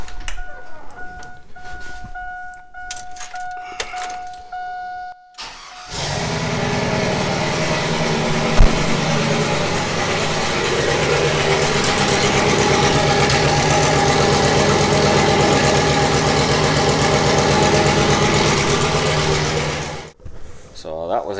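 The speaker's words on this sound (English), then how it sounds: "the truck fired up, no problem" A Chevy Silverado truck with a newly installed Walbro 525 fuel pump cranks briefly, then its engine catches and settles into a loud, steady idle for about fifteen seconds before shutting off; brief talk is heard before it starts.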